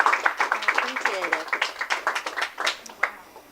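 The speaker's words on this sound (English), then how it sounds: "And let's applaud too, because this was fabulous." Audience applause following a lecture: a dense patter of many hands clapping at steady moderate level, with voices mixed in through the burst.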